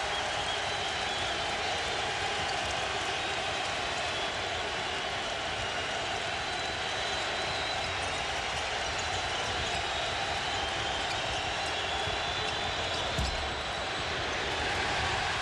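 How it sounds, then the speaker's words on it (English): A dense, steady roar fills a 2004 NCAA basketball arena during Pitt vs Wisconsin, the crowd noise sustained and loud throughout, with a brief thud near the end. "Here comes the crowd"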